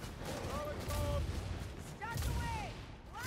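Cannon fire in a video game battle: booming blasts and rumbling gunfire over a steady noisy din, with overlapping voices talking and shouting throughout.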